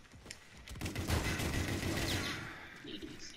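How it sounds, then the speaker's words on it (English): Rapid explosive fire and blasts from a rocket launcher in a Call of Duty: Infinite Warfare gun-game match ring out as a dense, loud burst that decays over a few seconds, with faint voices in the background. "Oh, that rocket launcher."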